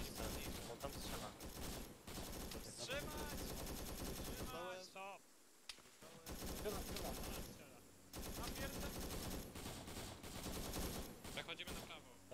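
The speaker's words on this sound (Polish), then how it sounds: "To odsuń się z tego miejsca, bo tam strzela." Sustained machine-gun fire in a tactical military shooter game, dense rattling bursts almost throughout with one short lull mid-way, while several players talk over the radio.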